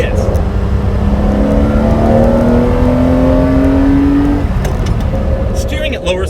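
A 1990s sports car, either a Ferrari 512TR or a Porsche 911 Turbo, accelerates hard on the road, its engine note rising steadily and loud close by, then easing off near the end under continuous wind and road noise.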